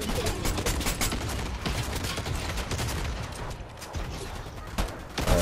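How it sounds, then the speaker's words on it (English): Dense, continuous video-game gunfire from shooting at people, rapid overlapping bursts and shots filling the whole stretch, loud and close with no talk over it. "Yep, yep, shoot them, shoot them, shoot them"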